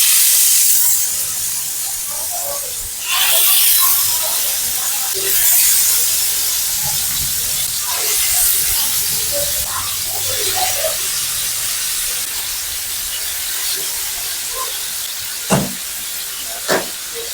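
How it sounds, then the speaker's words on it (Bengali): Chicken pieces frying on a hot tawa griddle outdoors at a picnic, giving a steady loud hiss and steam-like sizzle throughout, with a few sharp clinks of utensils near the end. "এবার চিকেন দিয়ে দেওয়া হবে তাওয়াতে একটু ফ্রাই করে নেওয়ার জন্য।"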